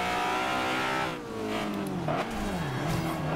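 Honda S2000 Fast & Furious Edition in Forza Horizon launching at a race start, engine revving hard and climbing in pitch with a brief dip at a gear change and a touch of tire squeal, loud and close.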